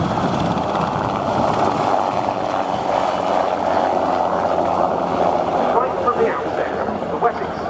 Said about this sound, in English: It was the first anti-submarine helicopter for the Royal Navy that was designed for that role from the outset and with gas turbine power.